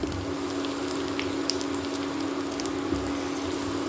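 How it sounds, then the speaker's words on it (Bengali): Mushrooms sizzle in melted butter with chopped garlic in a pan, a soft, steady frying hiss with faint crackles and a low hum underneath. "রসুন কুচিগুলো অল্প একটু নাড়াচাড়া করে আমি এখানে মাশরুমগুলো দিয়ে"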